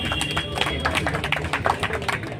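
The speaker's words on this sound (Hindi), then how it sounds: "उनके लिए सबसे पहले अभिवादन तालियों के साथ होना चाहिए" A gathered audience at a political speech breaks into applause, a moderately loud ripple of overlapping claps in an irregular rhythm that lasts throughout.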